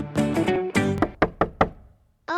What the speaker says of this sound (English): Oh, someone's knocking at the door.